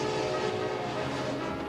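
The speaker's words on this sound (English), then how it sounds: "What we have here is my train layout." An HO scale model train runs on a home layout, giving a steady, loud mechanical rumble and whir with sustained tonal humming and no pauses or voices.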